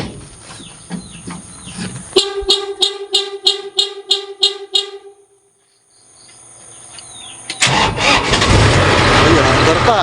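A DC70 harvester engine, just back from a transmission overhaul, cranks with a rapid rhythmic chugging, cuts out briefly, then catches and settles into a loud steady running roar.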